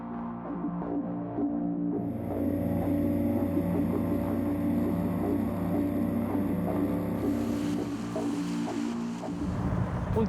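Zar ZF1 tender boat powered by a 40 hp Mercury outboard engine, running steadily with a loud, continuous throbbing drone and rushing water, close by throughout.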